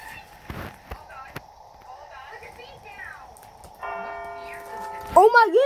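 Big Ben, the London clock tower bell, rings out at the end with a strong, resonant chime after street noise, faint talk and a hum of traffic, heard outdoors at a distance.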